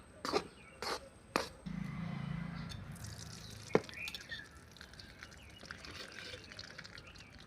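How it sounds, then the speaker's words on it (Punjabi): Desi ghee poured onto wheat flour for panjiri, a soft wet trickle and squish after a few sharp taps, close and quiet with no talk. "ਆਪਾਂ ਇਹਦੇ ਤੇ ਦੇਸੀ ਘਿਓ ਪਾ ਰਹੇ ਹਾਂ"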